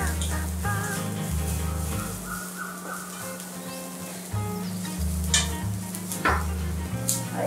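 A spoon stirs and mixes a spiced onion kachori filling in a pan, scraping in a steady rhythm over a soft sizzle of frying, with a few sharper clinks of metal on the pan.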